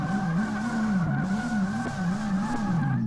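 A drift car in a racing sim video game with clutch kicks and quick max throttle, its engine droning loud and steady with the pitch rising and falling in repeated surges, tire noise underneath.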